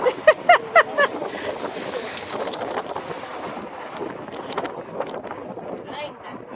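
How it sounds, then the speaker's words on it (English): Cold wind gusts across a road bridge with traffic speeding past, a steady broadband rush of wind buffeting the microphone, led in by a few brief high chirps at the start. "that wind's cold"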